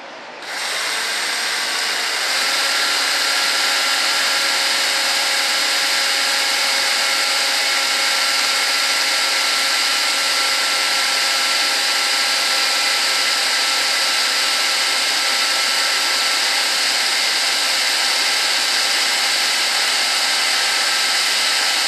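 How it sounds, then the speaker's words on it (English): A power drill held in a drill jig bores steadily into wood for an rc jet B-1 Bomber build, a loud continuous whine that spins up in the first seconds and holds at an even pitch throughout, with no talking. "let the drill do the work"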